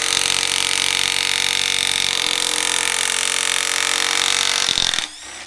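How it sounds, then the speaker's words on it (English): A power tool with a 1/4 inch bit buzzes steadily to back out plugs on a brake relay valve, running continuously at close range for about five seconds before cutting off abruptly. "we're gonna fucking buzz out these plugs"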